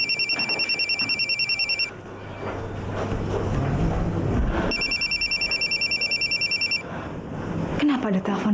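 A telephone rings in repeated rapid electronic trills, loud and close, pausing briefly before ringing again, with voices and background sound mixed beneath it.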